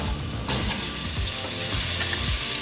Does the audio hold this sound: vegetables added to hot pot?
yes